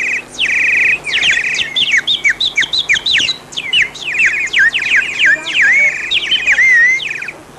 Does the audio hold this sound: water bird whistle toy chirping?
yes